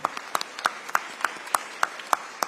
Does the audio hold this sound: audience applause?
yes